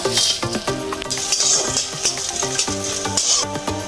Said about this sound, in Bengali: এবার ফোড়নে দিচ্ছি ধনে, গোটা জিরে, গোলমরিচ, শুকনো লঙ্কা